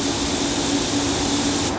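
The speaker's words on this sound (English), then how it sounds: "we'll spray some sealer" A loud, continuous hiss of a spray gun spraying paint sealer at about 24 PSI with the fan fully open, steady and close, cutting off abruptly at the end.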